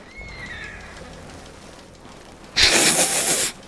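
Horse neighs and whinnies in the open-world game Red Dead Redemption 2, a thin wavering call early on followed by a loud, breathy snort-like burst near the end, close and alone.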